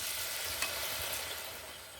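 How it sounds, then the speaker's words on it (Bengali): Semolina pitha fry in hot oil, a soft continuous sizzle with faint crackles, quiet and steady, heard alone. "এখানে তেল ভালো মতো গরম করে নিয়েছি। এবারে পিঠেগুলো ছেড়ে দিতে হবে।"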